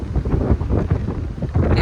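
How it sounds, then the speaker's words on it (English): Gusty wind on a mountain peak buffets the microphone in steady low rumbling bursts, loud and close, with no voices. "it has become windy"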